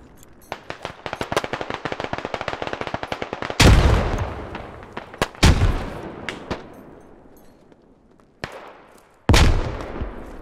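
Gunfire and a grenade blast in Squad, modded Middle East invasion combat: rapid bursts of rifle and machine-gun fire, then several loud, booming explosions with long rumbling tails separated by brief pauses.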